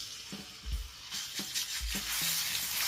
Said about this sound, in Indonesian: Terlebih dahulu tumis bawang putih yang sudah diulek halus.